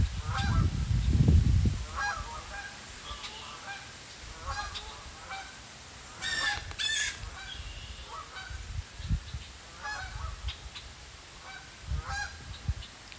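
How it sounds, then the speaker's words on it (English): Canada geese honk repeatedly at a distance outdoors on a cool fall day in Michigan, calls coming in scattered bursts, with a louder rustle or wind rumble near the start. "So those are Canadian geese."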